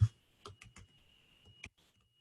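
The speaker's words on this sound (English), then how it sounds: "I'll type it in here in the thing." Keys on a computer keyboard are struck in a few short clusters of clicks with gaps between them, close and fairly soft, over a faint steady background tone.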